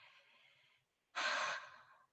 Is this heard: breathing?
yes